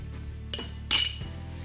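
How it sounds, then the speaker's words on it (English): A spoon stirs yeast into a malt extract whisky wash, with a few quick metallic clinks against the vessel, one sharper and louder knock near the middle, close and without talk. "Just give it a stir."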